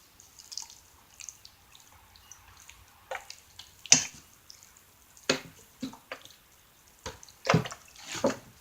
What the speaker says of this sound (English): And I'm going to water it. This is mosquito dunk water.